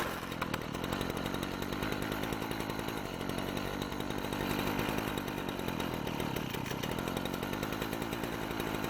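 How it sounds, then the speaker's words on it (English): A weed wacker's two-stroke engine screams at high revs during carburetor tuning, a loud, steady buzzing whine with slight wavering as it nearly stalls, running alone without talk. "That was the highest point. It almost stalled there."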